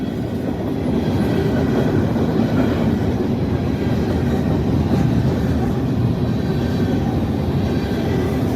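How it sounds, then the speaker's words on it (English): A good-sized freight train rumbles by at close range, its wagons clattering with steady clickety-clack over the track and a faint wheel squeal, loud and unbroken throughout. "This is a pretty good sized freight train."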